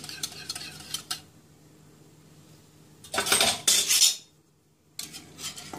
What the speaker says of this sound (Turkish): Şöyle iyice karıştırıyorum